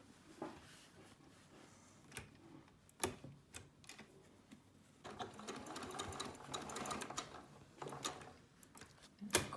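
A sewing machine stitches a curved quarter-inch seam in fabric, its needle chattering in quick mechanical bursts that start and stop, louder in the middle stretch, close and without talk.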